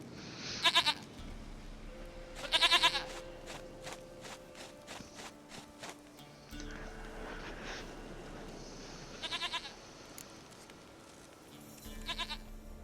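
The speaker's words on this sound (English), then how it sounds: "Goat of mine, dearest, sweetest goat." A goat in The Witcher 3 gives several loud, close, quavering bleats spaced apart, set over a quiet in-game ambience with soft footsteps and background music.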